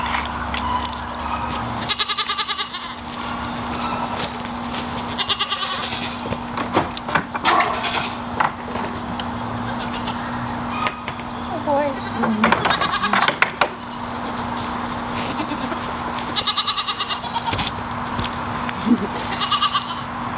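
Goats bleat in several loud, close bursts spaced a few seconds apart over a steady farmyard hum, with light rustling and knocks between the calls.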